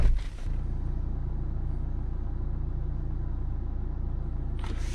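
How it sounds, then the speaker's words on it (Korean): Steady low diesel rumble from a 2017 Renault QM6 idling, heard from outside the vehicle, constant and fairly loud, with a brief clatter at the start and end. "지금 시동이 걸렸을 때 외부에서 소음이 대략 67dB 소음으로 측정이 되고 있고"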